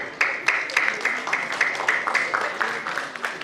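An audience at an entrepreneurship event in Lucknow claps in a steady, moderately loud round of applause that lasts a few seconds with no talk over it.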